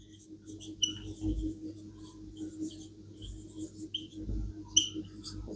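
Pen scratching out a handwritten number 9, soft close strokes in short irregular bursts with brief squeaky scrapes, faint and without speech.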